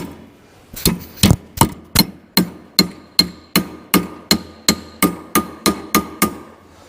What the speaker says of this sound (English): I go ahead and hammer it on down